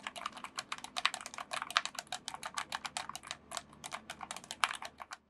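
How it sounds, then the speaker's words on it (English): Rapid, steady typing on a quiet cat-themed Geezer keyboard, soft muted keystrokes tapping in a continuous close-up stream with no talking. "here is how the keyboard sounds"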